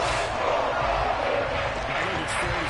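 A stadium crowd roars and cheers after a Falcons touchdown in the Madden 23 football video game, a broad sustained wash of massed voices at an even level with a brief brighter burst near the end.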